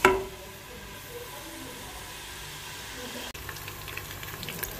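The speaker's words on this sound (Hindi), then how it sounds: "जब तक मेरा प्याज ब्राउन होता है अदरक और लहसुन पीस लेती हूँ।" Onions browning in a pan on a home stove give a quiet, continuous sizzle and hiss, steady and close, with a faint voice now and then.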